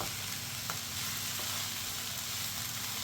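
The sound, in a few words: grated coconut frying and being stirred in mutton curry pan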